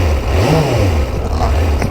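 A Suzuki GSXF600 motorcycle engine runs again after spluttering on a hot ride. It gives a loud, close, continuous rumble with a brief rise and fall in pitch as it revs slightly.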